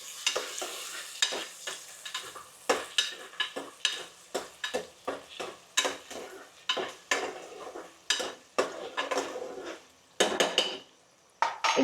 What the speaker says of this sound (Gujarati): તો બધું શાકભાજી આપણે મિક્સ કરી દઈએ.